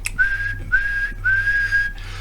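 Whistling into the microphone of a CRT SS 7900 CB radio transmitting in AM mode: three sustained steady whistle tones with short breaks between them, over a constant low hum.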